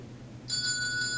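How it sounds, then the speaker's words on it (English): An antique school bell more than a century old, rung by a child: a bright metallic ring starts partway through and keeps sounding steadily, close and clear. "This thing rang near that school over 120 years ago. Give that thing a good ring."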